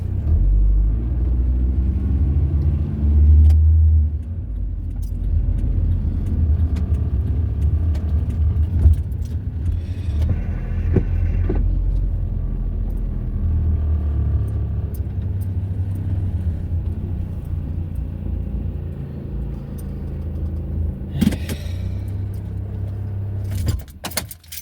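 Steady low engine rumble from a car with a 1.9-liter single overhead cam 100-horsepower four-cylinder engine while driving, with interior rattles and occasional clicks and no talk.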